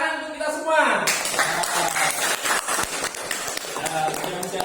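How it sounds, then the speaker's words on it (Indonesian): A group of teachers in a classroom session claps together, a brisk cluster of close, uneven hand claps following a brief voice and a tone at the start. "tepuk tangan untuk kita semua"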